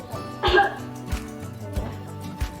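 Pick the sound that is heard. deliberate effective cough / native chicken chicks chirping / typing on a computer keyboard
deliberate effective cough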